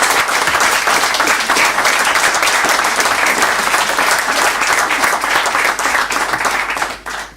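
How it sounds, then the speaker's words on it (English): Audience applause after a film and Q&A, a dense, loud, sustained wash of many hands clapping that continues evenly for several seconds before trailing off at the end. "everybody should really give a hearty round of applause for your courage in doing"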